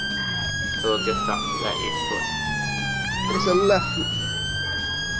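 A police car siren in GTA V wails in sweeping, rising and falling tones throughout, with a voice talking over it.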